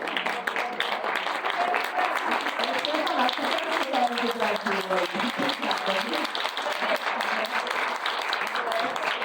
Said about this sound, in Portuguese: levantarem para a gente bater palmas para elas